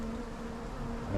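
A honeybee swarm hums in a dense, steady drone, faint and continuous, with no voices.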